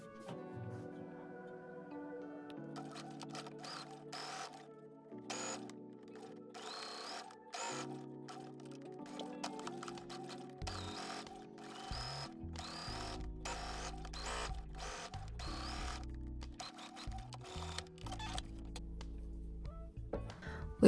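A sewing machine runs in short bursts, top stitching fabric near a folded edge, a rapid close mechanical whirring that starts and stops repeatedly over a soft hum.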